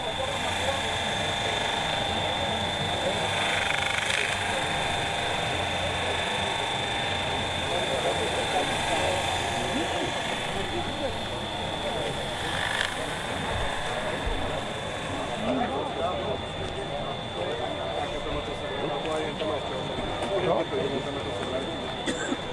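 A metal polishing machine works a metal surface with Black Max paste, giving a steady, loud, continuous whir with a high whine, while someone talks over it in the background.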